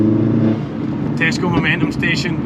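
A track-ready Mini Cooper S engine runs with a steady, close low hum while someone talks over it.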